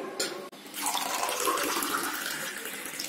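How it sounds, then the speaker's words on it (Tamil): Water pours steadily into lemon juice for a homemade summer drink, a close, continuous gushing and splashing that lasts a few seconds with no talk. "இது கூட நம்ம இதுக்கு தண்ணி சேர்த்துக்க வேண்டியது"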